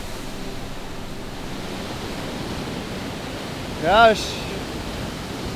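A roughly 10-meter waterfall on a whitewater kayaking river roars as a steady, broad wash of rushing water, with a short voice cutting in briefly near the end.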